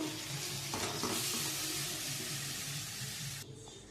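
Soft sour greens (tok shak) are stirred in a pan without added water, giving a steady close sizzle with light scraping and rustling that drops away near the end, no voices.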